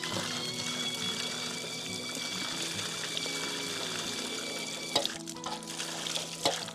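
Water runs steadily from a campsite tap in Italy in a continuous hiss, with a few clatters and knocks near the end.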